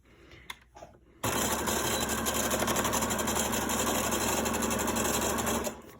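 A sewing machine runs steadily, stitching through lined-up fabric layers along the edge for a chicken-shaped grocery bag holder, a loud continuous motor whir that starts abruptly after a short quiet pause and stops near the end.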